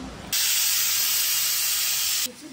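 Chicken pieces frying in a pan give a loud, even hiss that starts abruptly, holds for about two seconds and then cuts off, with no voices.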